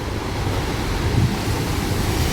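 Surf rolling onto a Bali beach where a surf school is running, a steady close roar of breaking waves with wind noise across the whole moment and no voices.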